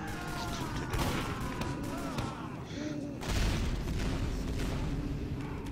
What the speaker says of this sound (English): the Heavy uses a huge machine gun